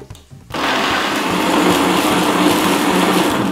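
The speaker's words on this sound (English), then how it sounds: "I'll use the blender. The blender makes work easy because in a flash, we are able to blend everything" A kitchen blender blending tomatoes starts abruptly after a brief quiet moment, then whirs loudly and continuously at a steady high speed until the end.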